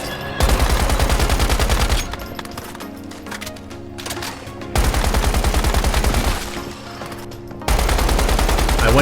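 Bursts of rapid assault rifle gunfire in a video game, fired in long sustained volleys with short pauses between them, loud and dominant with no talk.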